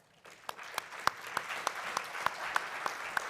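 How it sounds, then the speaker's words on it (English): Audience applause for a presenter at a conference on life tables, with one clear rhythmic clapper standing out at an even beat over a steady background of crowd clapping. "Please help me with your most energetic enthusiastic applause for the presenter of this presentation"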